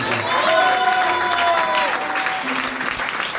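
A church congregation applauds in a full, sustained burst of clapping that stays loud throughout, with faint voices mixed into the crowd noise.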